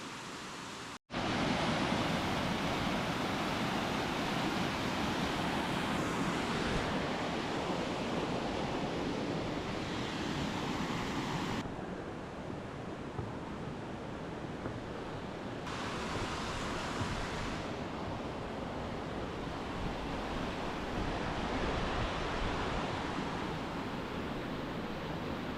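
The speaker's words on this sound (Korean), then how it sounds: "투명하게 흐르는 물, 바닥까지 드러난 계곡." Clear mountain stream in a Seoraksan valley rushing over a rocky bed, a dense steady roar of running water that stays loud and continuous, with slight swells in intensity throughout.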